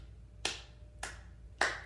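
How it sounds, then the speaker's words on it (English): Three sharp hand claps, evenly spaced about half a second apart, keeping the beat of a nursery rhyme over a low room hum. "Let's clap the beat."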